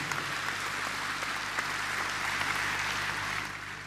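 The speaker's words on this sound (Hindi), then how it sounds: "दोनों हाथ उठा के ताली बजा के प्रधानमंत्री जी का स्वागत कीजिए, अभिनंदन कीजिए।" Sustained, dense applause from a large audience at an investors' summit, welcoming India's Prime Minister at the Madhya Pradesh Global Investors Summit, steady and loud throughout before easing slightly at the end.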